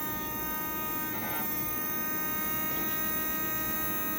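A small electric motor spins at around 18,000 RPM on 2 volts, driven by a SkyRC NC2500 Pro battery charger during its motor-run test. It gives a steady, close, high-pitched whine with a layered electric hum that holds unchanged throughout, with no voices.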